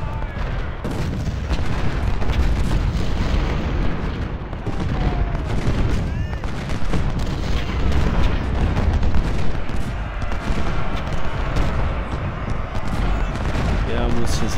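Dense, continuous booming cannon artillery fire and heavy blasts from the Civil War video game Ultimate General: Civil War, Battle of Chickamauga, rumbling without pause throughout, with a voice faintly mixed in at times.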